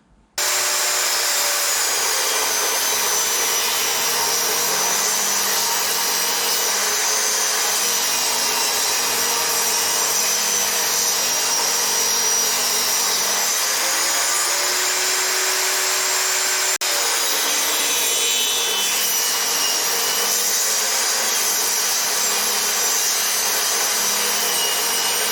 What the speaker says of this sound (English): we're over to the table saw and we're just going to cut the roundovers off